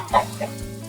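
A chicken gives a short, close cluck followed by a softer second note, brief and alone with no talking.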